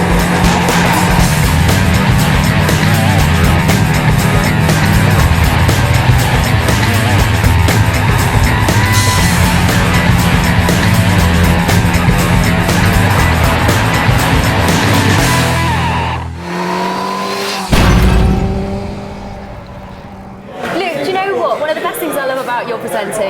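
A high-performance sports motorcycle roars loudly as it revs along a ride, a sustained engine howl with shifting pitch and wind rush, dropping away and surging again near the end.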